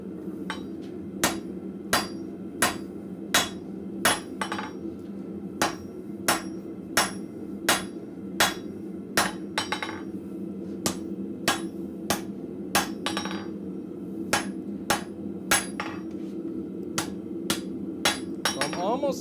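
A blacksmith hammers spring steel tongs on an anvil, landing sharp, ringing metallic blows in a steady, evenly spaced rhythm over a constant background hum of the forge.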